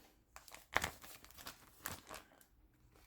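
Paper for ornament tags is trimmed at close range in a quiet room, giving soft crinkling snips and rustles with one sharper cut near the start.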